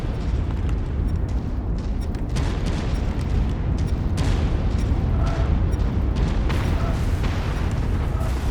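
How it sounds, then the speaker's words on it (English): Artillery cannon fire in the mech combat game MechWarrior 5 on a small map, a rumbling barrage of booms and blasts, with louder impacts now and then over a dense, continuous roar. "More artillery."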